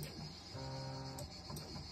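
Stepper motors on a home-built CNC machine whine through short pitched moves, steady tones stepping up and down in brief runs, fairly quiet and close, with no talking.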